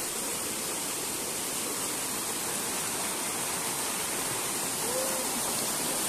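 Steady rushing of flowing stream water fills the scene, broadband and continuous at an even level, with no voices over it.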